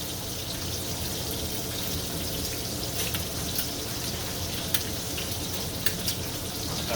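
Eggs frying in butter in a pan give a steady, close sizzle and crackle with faint spits and pops, no talking over it.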